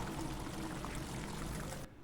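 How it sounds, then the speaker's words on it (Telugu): One cup of water pours steadily into a pot of green chicken curry for almost two seconds, a gurgling splash that stops abruptly near the end. "1 కప్పు వాటర్ యాడ్ చేసుకోండి"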